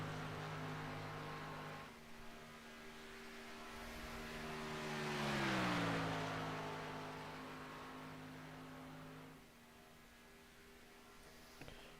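Race cars lapping at Talladega, a continuous engine drone that swells as a car passes and pitches down with a Doppler sweep, then settles back to a steadier distant roar.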